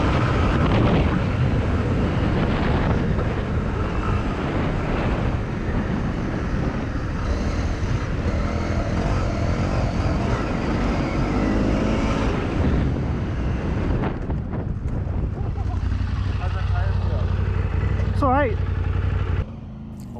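Honda CRF250L dirt bike ridden along a trail, its engine droning loud and close almost throughout with heavy rushing wind, then easing off near the end; a voice speaks briefly.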